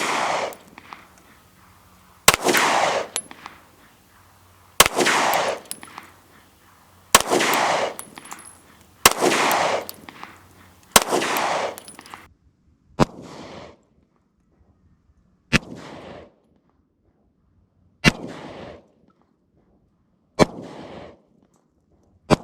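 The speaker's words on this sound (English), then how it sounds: "All right, we did a little 5-shot group." Five sharp, loud pistol shots at a target about 15 yards away, spaced roughly two seconds apart, each with a ringing tail. They are followed by several fainter, similar cracks. The pistol is a Rock Island STK 100 fitted with a Cylee CAT EDG optic.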